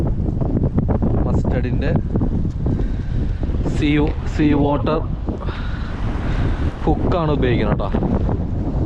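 Strong storm wind rumbles and buffets the microphone without pause during fishing in heavy rain in Australia, loud and low, while someone talks over it.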